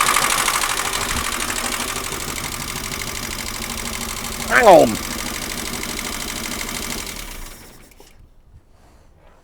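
An old engine that has not run in years, slightly tappy with a holed exhaust, chugs steadily at idle. A brief rising whine sounds midway, then it cuts out near the end. Someone speaks briefly.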